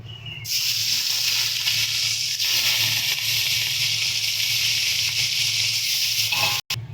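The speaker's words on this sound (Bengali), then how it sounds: "সেমভাবে আমরা বাকি যে মাছগুলো আছে ওগুলোকেও ভেজে নিচ্ছি।" Loud continuous sizzling of fish frying in hot oil fills the whole stretch, a steady hiss with a low hum beneath, cut briefly near the end.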